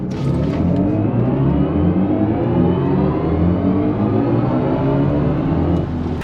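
The BMW i4 M50 electric car plays its synthetic Iconic Sound while driving, a smooth, sustained layered hum that rises gently in pitch, steady and fairly loud with no voices over it.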